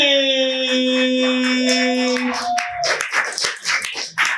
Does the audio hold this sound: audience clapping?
yes